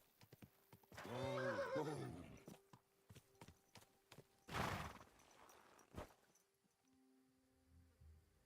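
A horse in the video game Kingdom Come: Deliverance whinnies loudly with a rising-falling neigh, followed by scattered hoof clops and a short snort, with no one talking.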